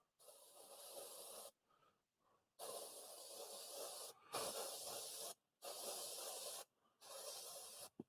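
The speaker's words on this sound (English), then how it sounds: "Airbrush is on. I got about 30 psi." An airbrush running at about 30 psi, used to lightly spray finish over a small turned wooden Christmas tree, gives a steady close hiss in five bursts of one to two seconds each, separated by short gaps.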